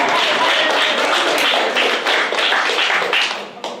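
An audience at a local political meet and greet breaks into a loud, dense round of applause, many hands clapping continuously up close, easing off slightly near the end.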